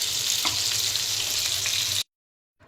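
Seer fish (neymeen) frying in a pan gives a steady, close sizzle and crackle for about two seconds, then cuts off into silence.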